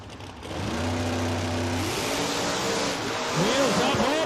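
A drag race car at a Lights Out event roars loudly down the racetrack, with a sustained engine note rising and shifting pitch, heard under excited commentary from an announcer.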